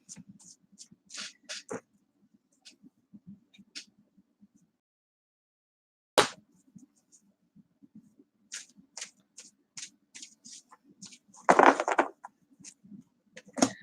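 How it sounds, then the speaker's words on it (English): Large tarot cards are riffled and shuffled in several soft, papery bursts, close by, with quiet pauses between and a louder flurry near the end. "They are very big cards to shuffle."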